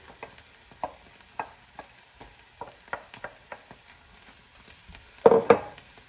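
Cauliflower rice, processed into small rice-sized pieces, is stirred and tossed in a pan, giving quiet intermittent scraping and light sizzling taps in an irregular rhythm, with a louder clatter near the end and no talking.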